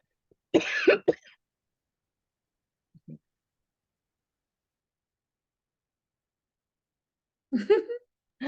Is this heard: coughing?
yes